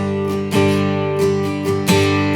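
Acoustic guitar chords strummed in a slow whole-note pattern, each chord held ringing for four beats before the next stroke, four full strums in all, close and clear with no talking.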